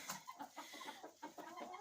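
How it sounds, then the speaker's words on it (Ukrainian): Broody hen sitting on a snowy farm, giving soft, repeated low clucks in an irregular rhythm. Close but faint, with no other voices. "Сидить квочка і не хоче вставати."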